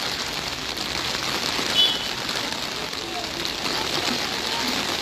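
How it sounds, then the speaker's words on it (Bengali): Heavy downpour in Arambagh after the sky turned dark, a dense, constant hiss of rain drumming on surfaces, steady and close throughout, with a faint voice underneath. "বৃষ্টির আবারও বেড়েছে আবারও বাড়ছে কিন্তু বৃষ্টি"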